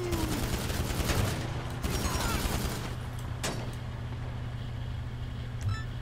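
Scattered gunfire from NPCs crackles in GTA 5 Online over a steady low engine hum, with a few sharper shots standing out at mid-distance.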